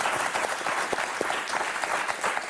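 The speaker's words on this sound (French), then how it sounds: "qu'on va applaudir très fort" Studio audience on the French game show Motus applauds two returning contestants with steady, energetic clapping, close and continuous for a few seconds.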